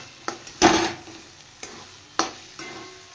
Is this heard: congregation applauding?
no